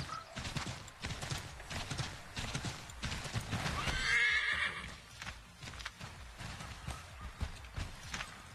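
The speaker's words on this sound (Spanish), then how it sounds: "Madre mía, que este caballo hace más parkour que yo." A horse in Assassin's Creed 3 gallops with a quick, rhythmic clatter of hooves throughout, and a loud, close neigh breaks out midway over the hoofbeats.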